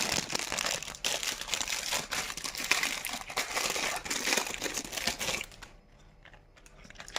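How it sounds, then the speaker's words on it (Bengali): Online shopping parcels being unpacked, with steady dense crinkling and crumpling of plastic packaging and tearing wrap, close and continuous for several seconds before dropping to near quiet at the end. "তো চলো এবার প্রত্যেকটা হচ্ছে আনপ্যাক হবে"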